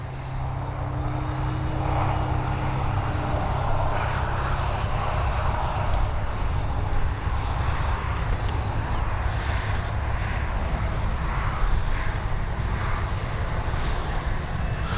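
A propeller engine drones steadily throughout, a constant buzzing whine from a radio-controlled model Corsair warbird flying at a distance, with light outdoor background noise.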